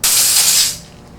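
A short, loud burst of compressed air blowing a rubber grip onto a Honda motorcycle handlebar, a broad hiss that cuts off after under a second and leaves a faint tail.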